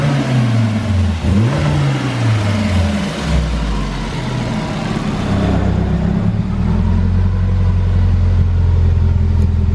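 A car engine revs and drones steadily up close, its pitch climbing and dipping, then holding a loud, even growl.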